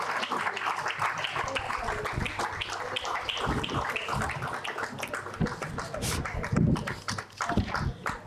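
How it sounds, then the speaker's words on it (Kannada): An audience applauds an award recipient at a music-prize ceremony, a sustained, loud burst of many hands clapping in a hall, with voices and some scattered knocks mixed in as the clapping thins near the end. "ಎಲ್ಲರೂ ದಯವಿಟ್ಟು ಜೋರಾದ ಚಪ್ಪಾಳೆ ನೀಡಿ ಪ್ರೋತ್ಸಾಹಿಸಬೇಕೆಂದು ಕೋರಿಕೆ."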